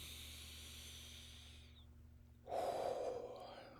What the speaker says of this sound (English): Then take a breath in with your nose.